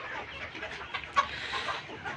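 Chickens around three months old cluck at a poultry farm, soft scattered clucks and low calls from several birds at moderate distance.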